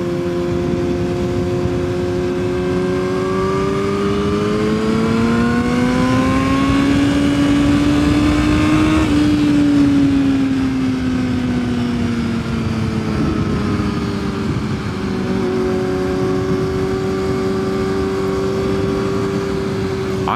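A loud motorcycle engine drones close by on an airstrip, one of a Yamaha R6 and a Kawasaki Ninja 650, rising in pitch as it accelerates, easing back, then holding a steady buzzing note.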